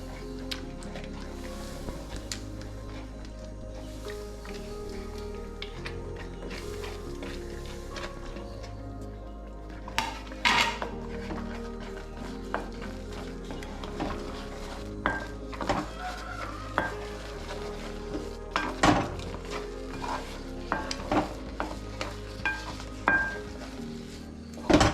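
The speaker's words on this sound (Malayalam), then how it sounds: "റവ ചേർക്കുമ്പോൾ തന്നെ നന്നായി ഇളക്കി കൊടുക്കണം." Roasted semolina being stirred into boiling water in a pan while making soft rava upma, heard as a quiet, continuous bubbling bed broken by irregular spoon scrapes and clicks against the pan that grow busier toward the end.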